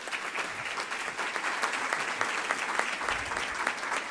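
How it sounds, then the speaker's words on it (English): An audience at a Greater Columbus Arts Council event claps steadily for a speaker, a dense, even wash of applause that continues for a few seconds without talk. "please give him a round of applause"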